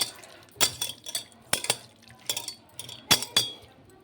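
Spoon clinking and scraping against a pot while a mutton biryani mixture with squeezed lemon juice is stirred, in irregular bursts of clatter and faint wet mixing, close and fairly loud.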